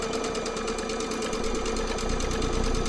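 A domestic sewing machine stitches a quilt at a steady, even speed, its rapid needle rhythm loud and close with a constant motor hum throughout and no voices.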